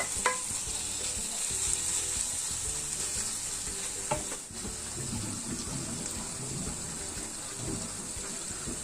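Chopped onions fry in a pan with a dense, continuous sizzle, loud and close, with occasional stirring scrapes and clinks and no voices.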